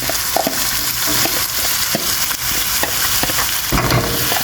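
Onions sizzling in hot oil in a pan, after pine nuts were toasted, while making crispy chicken kibbeh: a loud, continuous close-up crackle with scattered taps and scrapes as the pan is stirred, no voices.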